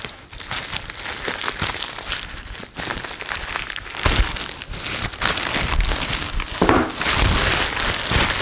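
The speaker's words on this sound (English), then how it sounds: "Sorry if you can hear rustling coming through the mic." A Godox plastic carry bag is handled close up, giving steady crinkly rustling that runs throughout with no talk over it.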